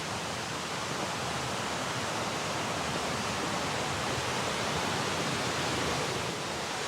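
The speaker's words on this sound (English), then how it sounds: "So we've come up to the first waterfall in this little leg. This one's called the Harrison Wright Falls." Harrison Wright Falls, a 27-foot waterfall at Ricketts Glen, pours as a dense, steady roar of rushing water with no break, close and fairly loud.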